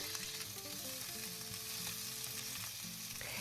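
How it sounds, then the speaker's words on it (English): Cabbage stir-fries in hot oil in a pan, a continuous broad sizzle with faint stirring underneath, fairly quiet and even throughout, with no voices. "Stir fry the cabbage for about 1 minute."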